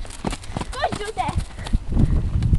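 Horse hooves clip-clop steadily during a riding lesson, close and fairly loud, mixed in with people talking and laughing over them.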